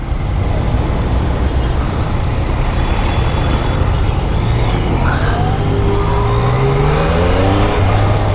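A Yamaha XSR900 motorcycle accelerates hard on an expressway, its engine note climbing through the gears over a loud, steady roar of wind and road noise.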